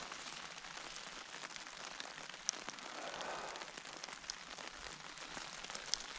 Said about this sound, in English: I think the rain's in now